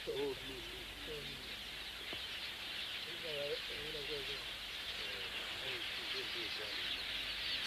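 A large flock of quelea birds flies in to roost, a dense, continuous wash of high chirping chatter that fills the whole stretch while someone narrates over it.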